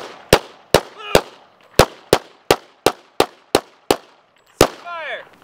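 Sharp gunshots crack out about a dozen times in an uneven rhythm during a live-fire shooting drill, close and loud, with brief gaps between bursts and a voice shouting near the end.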